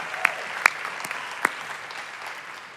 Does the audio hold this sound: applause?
yes